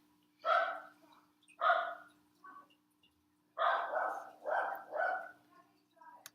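A dog barks repeatedly in uneven bursts, fairly close, with short pauses between clusters of barks.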